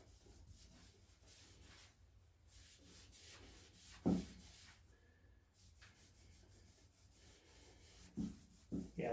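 Lacquer being scraped and rubbed off the body of a Les Paul DIY guitar kit: steady, close rasping friction with a few sharper scrapes and knocks near the end, no talking.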